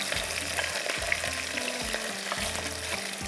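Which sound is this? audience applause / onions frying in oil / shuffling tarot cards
onions frying in oil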